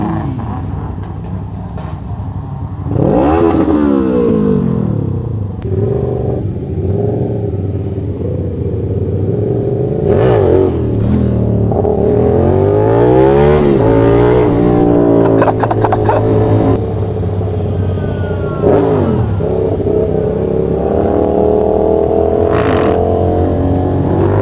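A motorcycle engine on the NLEX expressway revs repeatedly, its pitch rising and falling with each throttle blip before settling into a sustained high drone, loud and close under heavy wind rush.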